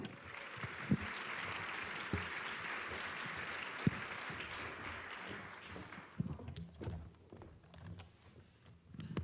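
An audience at a panel on equity-centered development claps for about six seconds in a warm, full burst of applause, which then thins to scattered claps, shuffling and small room noises.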